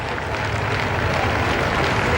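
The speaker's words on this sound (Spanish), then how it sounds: "Como pueden escuchar, entre los aplausos de los muchos ciudadanos" Crowds of citizens awaiting the funeral cortege of former Spanish prime minister Adolfo Suárez in 2014 clap steadily, a dense, continuous wash of many hands at a distance with no pauses.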